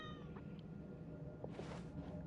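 Cat meowing from inside the walls in a video game, a faint, muffled mew near the start followed by a brief louder rasping cry, over a steady low ambient hum.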